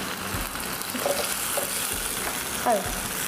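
Browned onion and tomato puree sautéing in a pan, giving a steady close sizzle and frying hiss with occasional stirring scrapes and no talk over it.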